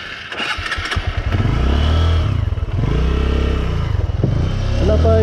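A motorcycle engine starts with a clatter near the microphone and then settles into a loud, steady idle with a few revs, heard on a hanging bridge in Rizal, Roxas, Palawan.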